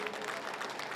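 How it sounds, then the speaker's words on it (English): Spectators applauding at a World Championship Campdraft rodeo event, a brief burst of crowd clapping with a rough, busy texture heard from a distance. "Give her a round of applause, Sydney."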